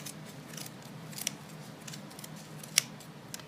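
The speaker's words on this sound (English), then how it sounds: "you just take your scissors and you just come straight down the center" Quiet snipping of scissors cutting through yarn while making a pom pom, a few soft crisp cuts at irregular moments over low background hum.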